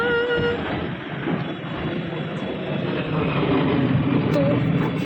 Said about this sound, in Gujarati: તો ઉપર જાય છે વિમાન